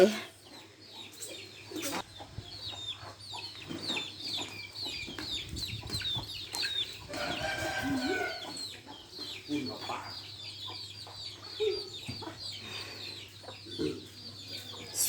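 Chickens and chicks clucking and cheeping on a small rural farm near the Laos border, a steady chatter of overlapping calls throughout with a few louder bursts, under a constant low electrical hum and some talk.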